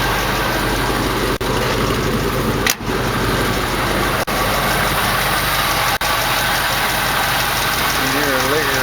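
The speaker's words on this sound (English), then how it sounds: "You hear a lifter ticking over here." A 1968 AMX V8 idles steadily up close, with a ticking lifter and exhaust leaks adding a light rhythmic tap over the even rumble throughout.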